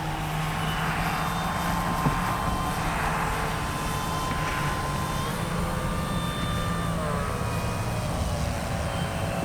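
An Avios Grand Tundra V2 radio-controlled airplane flies overhead, its propeller motor droning steadily with a sustained buzzing whine that shifts pitch slightly as it passes, fairly loud and continuous, with no voices.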